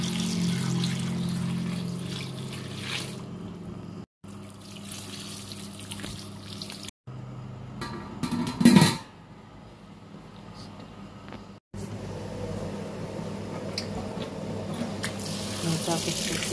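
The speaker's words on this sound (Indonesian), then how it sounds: "Tambahkan air secukupnya." Tap water running into a pot for boiling corn in a home kitchen, a steady soft splash and trickle with brief breaks and a louder clatter midway.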